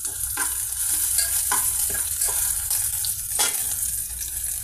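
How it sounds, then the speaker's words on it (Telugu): Onion pieces and green chillies fry in hot oil for a bhindi curry, giving a loud, continuous sizzle with a few soft stirring scrapes throughout. "ఉల్లిపాయ పీసెస్, పచ్చిమిర్చి ఆయిల్లో ఫ్రై అవుతున్నాయండి"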